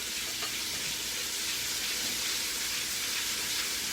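Onion poured into a hot pan for clam chowder, sizzling and frying with a steady, dense crackling hiss that holds evenly throughout at close range.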